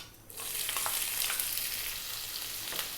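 Chopped onion hits hot oil in a pan and starts sizzling, a sudden hiss that stays as a steady crackling fry, close and alone, with a few stirring scrapes.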